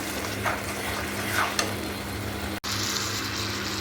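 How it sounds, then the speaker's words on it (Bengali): Meat cooking down in salt in a pan for a Bengali kosha curry, with a steady close sizzle, light stirring scrapes and a brief clatter partway through. "মাংস কষাতে বসিয়ে দিয়েছি"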